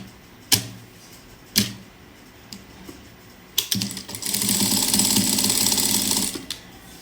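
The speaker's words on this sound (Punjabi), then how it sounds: "ਇਸ ਤੋਂ ਬਾਅਦ ਅਸੀਂ ਬਿਲਕੁਲ ਸਾਈਡ ਸਾਈਡ ਤੇ ਸਿਲਾਈ ਲਗਾਣੀ ਹੈ" A sewing machine stitches invisible lace onto the edge of a kameez shirt: a few sharp clicks, then a close, steady mechanical whir that runs for a couple of seconds before stopping.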